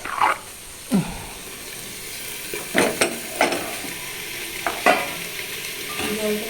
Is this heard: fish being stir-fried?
yes